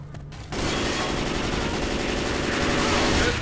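Sustained automatic gunfire loaded with incendiary ammo in Left 4 Dead 2, starting abruptly after a brief quiet moment and continuing as a loud, steady, rapid stream of shots.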